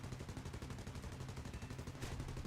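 A fighter plane's guns in the video game War Thunder fire in rapid continuous bursts, a dense rattling stream that stays steady and faint throughout.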